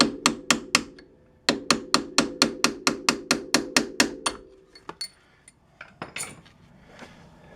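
A hammer taps a bushing into a Polaris Sportsman ATV, a quick series of close, sharp metallic strikes in steady rhythm, a short pause, then another run of evenly spaced taps fading into scattered lighter knocks.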